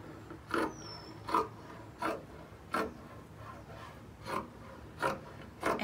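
A fabric sheet being cut into long strips for an upcycled scarf gives a steady series of about eight close, rasping cutting strokes, each a short scratchy burst at a regular pace with quiet pauses between and no voices.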